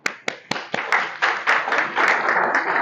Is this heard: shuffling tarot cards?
no